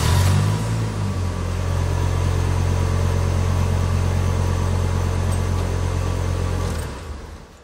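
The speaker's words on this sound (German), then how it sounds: "Motor starten." A VW T4 Syncro bus with a 2.5L engine, after six years of standing unused, cranks briefly and catches, then settles into a steady, loud, close idle that runs for several seconds before cutting off.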